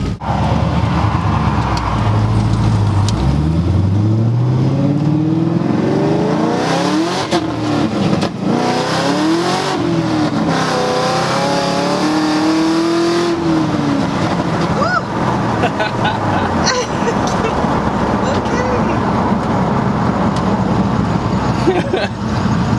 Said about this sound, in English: the car was warmed up before doing these pulls